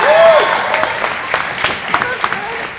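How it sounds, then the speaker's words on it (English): A small concert audience claps and whistles briefly, the applause scattered and fading, with a voice calling out near the start. "Give him a clap!"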